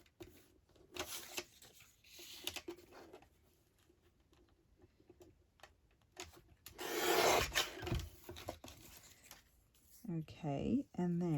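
Scissors trimming a paper journal card, soft scraping and snipping strokes up close with a louder burst of cutting midway, while a person talks.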